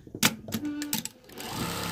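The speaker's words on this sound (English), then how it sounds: "We're going to sew right sides together again." A sewing machine stitches T-shirt quilt pieces sewn right sides together, running in short bursts with a steady mechanical whir and brief pauses, close and fairly loud.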